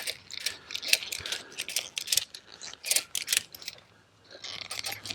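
Ratchet straps cranked in quick, irregular clicking bursts to tension a bolted fence board on a homestead fence line, close and fairly quiet, with brief pauses between strokes.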